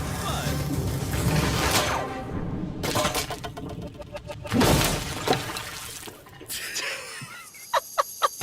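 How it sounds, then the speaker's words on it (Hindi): A heavy bag of water weighing more than 45 kilograms drops after its rope snaps in an abandoned city, and water splashes and gushes across the ground. The loud crash is followed by splattering and several sharp knocks near the end. "हमारी रस्सी टूट गई और सारा पानी जमीन पर बह गया"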